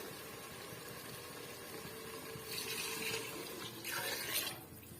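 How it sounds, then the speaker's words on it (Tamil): Water runs and splashes into a cooking pot in two surges over a low background hum, growing louder as it pours, then cuts off near the end. "எனக்கு வந்து தண்ணி மீத இருக்கிறதுனால நான் ஒன்றரை கப் அளவுக்கு நான் அளந்துட்டு நான் சேர்த்துக்கிறேன்"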